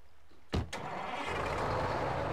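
Bus engine in the Animal Crossing video game cranking to life with a sharp burst, then settling into a steady, loud, close idle rumble.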